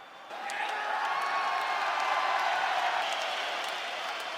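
An arena crowd roars in a sustained wash of cheering and applause after the UFC bout between Alex Volkanovski and Islam Makhachev, staying loud and steady throughout, with faint whoops on top.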